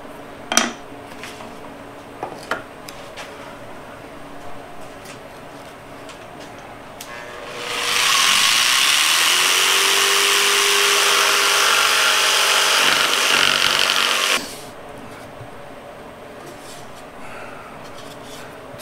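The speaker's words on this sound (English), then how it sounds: "Take my jigsaw and just cut me a little semicircle right out of there." A jigsaw cutting a small semicircle notch into a wooden table saw throat plate: a loud, steady buzzing whine for about seven seconds, rising as the motor spins up and stopping abruptly, with scattered workshop knocks before and after.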